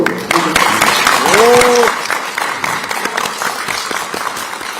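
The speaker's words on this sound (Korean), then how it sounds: "큰 박수로 부탁드립니다." Scattered clapping from an audience at a Democratic Party supreme council meeting in Busan, with a crowd cheer and voices rising briefly before thinning into lighter, uneven claps.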